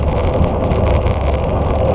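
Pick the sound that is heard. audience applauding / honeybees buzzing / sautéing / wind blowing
wind blowing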